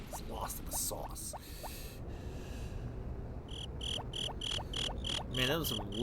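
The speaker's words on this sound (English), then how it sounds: "Man, that was some loud crickets." Crickets in Harvest Moon: Friends of Mineral Town chirp in rapid, regular pulses, loud and near, first in a run of bursts, then a brief lull, then another steady series of sharp repeated trills over a low rustling bed.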